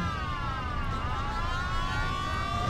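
Police car siren in the Mafia video game, a loud, continuous wailing tone that rises and falls throughout over steady rumbling traffic and engine noise.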